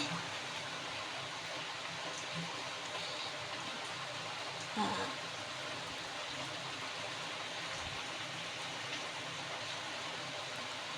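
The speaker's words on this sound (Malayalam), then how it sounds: "അപ്പോൾ പുറത്ത് നല്ല മഴ പെയ്യുന്നുണ്ട്, അതിൻ്റെ ഒരു ഡിസ്റ്റർബൻസ് കാണും കേട്ടോ" Heavy rain falls outside, a steady dense hiss heard from indoors that runs through the whole stretch with one brief louder knock midway.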